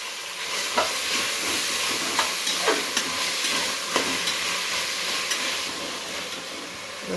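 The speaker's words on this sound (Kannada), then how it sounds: "ಶುಂಠಿ ಬೆಳ್ಳುಳ್ಳಿ ಪೇಸ್ಟ್ ಫ್ರೈ ಮಾಡಿ, ಟೊಮೊಟೊ ಹಾಕೊಂತ ಇದ್ದೀನಿ" Ginger garlic paste and tomato frying in a pan, a loud continuous sizzle with a few soft periodic scrapes of stirring spaced about a second apart.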